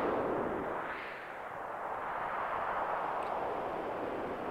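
Sister Ray cannon firing in Final Fantasy VII, a sustained roaring blast of broadband rushing noise with a brief dip partway, heard alone with no talk over it.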